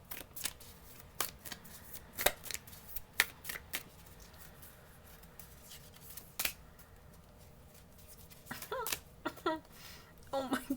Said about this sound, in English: it's just the way I shuffled the deck